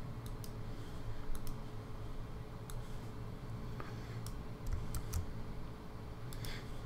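Sparse computer keyboard typing while writing code for an iPhone app, scattered light key clicks in small bursts over a low steady background hum, with no speech.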